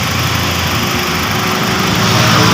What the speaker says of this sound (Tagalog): Yan guys, naka-engage yung compressor